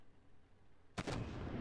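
Artillery fire in the tank game Armored Warfare: one heavy, booming shot lands abruptly after near-silence, followed by a rumbling, echoing tail that keeps going to the end.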